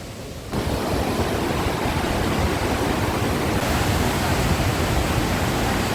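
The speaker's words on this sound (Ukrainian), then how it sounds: "Київський водоспад насправді дуже гарний, потужний пробій" Powerful waterfall in the Carpathians roars as a steady, dense wash of broadband noise, loud and close, running unbroken after a brief quieter opening.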